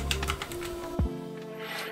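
NuPhy NuType F1 compact mechanical keyboard with red switches being typed on: a few soft, muted keystrokes over a busy background.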